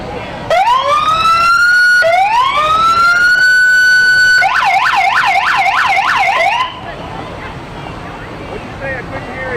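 A loud, close Alburg Volunteer Fire Department fire truck siren in a Fourth of July parade wails in rising sweeps, then switches to a rapid yelping warble before cutting out, leaving a quieter rumble behind.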